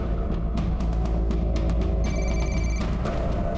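A telephone bell rings inside a house in repeated bursts over a low, steady background hum, loud and close with no talking.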